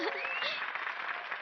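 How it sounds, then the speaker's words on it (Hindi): Cartoon applause for dancers in a Shinchan episode, a short burst of steady clapping with bright voices calling out over it. "इनके लिए तालियां बजाइए।"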